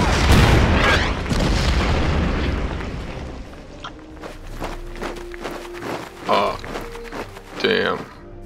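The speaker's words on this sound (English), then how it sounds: "artillery strike" Artillery strike in the wartime strategy game Order of Battle Pacific: a heavy rolling explosion rumble opens the clip and fades, followed by a string of sharp impacts and bursts with a steady tone beneath.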